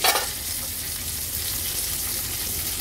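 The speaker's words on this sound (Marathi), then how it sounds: "5 ते 6 मिनिटं झालेत, एक बाजू आपण फ्राय करत ठेवली होती।" Crab, known as chimbori, fries in a pan with a little oil over a medium flame, a steady close sizzle and crackle with a brief louder spatter at the very start.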